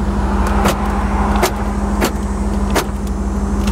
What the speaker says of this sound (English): Power door locks work.